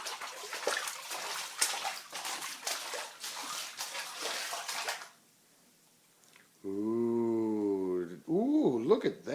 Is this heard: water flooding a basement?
yes